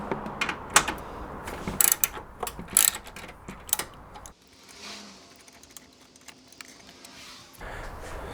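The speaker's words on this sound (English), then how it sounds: "We're now going to remove the 10mm bolt that is located on the side of" Hand ratchet loosening a 10mm bolt on the side of a Subaru WRX airbox, close irregular metallic clicks for about four seconds, then a quieter stretch with faint rustling.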